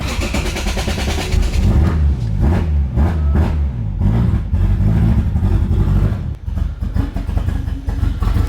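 A loud turbocharged Toyota Supra engine making over 500 wheel horsepower revs hard and continuously close by, its roaring pitch rising and falling with a rough, buzzy edge.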